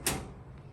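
A garage cabinet drawer slides shut with one quick, close swoosh and bump, then fades into quiet room tone.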